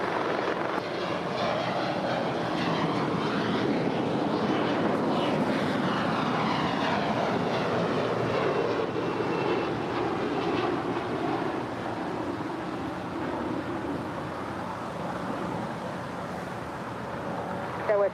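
An airliner takes off from runway 25 right at LAX, its broad engine roar steady and loud throughout, with a faint rushing sweep as it climbs away.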